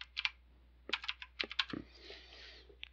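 Typing on a computer keyboard, with clusters of quick close key clicks separated by short pauses, entering login details for a Python SSH script connecting to a Cisco switch.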